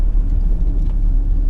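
Steady low rumble of a 2005 Volvo XC70 2.4 D5 diesel with automatic gearbox cruising gently on the road, a continuous interior drone with no voices.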